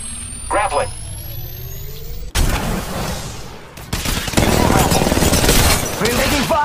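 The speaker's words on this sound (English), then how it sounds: "We're taking fire!" Gunfire in the Apex Legends Mobile battle royale game, with bursts of automatic weapon fire and impacts growing louder and denser in the second half, mixed with game effects and voices talking over it.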